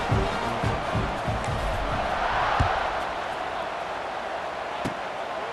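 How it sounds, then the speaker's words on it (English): A stadium crowd in EA Sports College Football 26 roars steadily during a fourth-quarter kickoff, with a dense wall of cheering, some low thuds and a sharp knock near the end. "this crowd is feeling themselves after that last drive."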